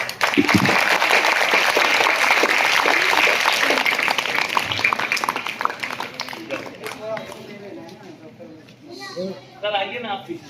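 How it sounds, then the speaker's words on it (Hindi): Loud applause from an audience at a school certificate ceremony, dense clapping for about seven seconds that thins out toward the end as voices talk over it. "जोरदार ताली।"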